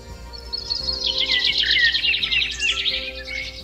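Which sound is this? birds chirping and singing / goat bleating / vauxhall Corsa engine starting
birds chirping and singing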